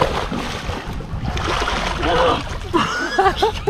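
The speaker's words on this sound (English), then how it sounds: "We're gonna jump in the water and do a bit of snorkeling." A loud splash and sloshing water as people jump from a boat into the sea off an Australian island to go snorkelling, with voices talking and shouting over the churning water.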